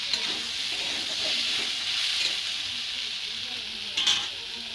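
Ridge gourd goes into a pan of fried tomatoes, giving a steady, close sizzle with soft stirring and a brief louder burst near the end.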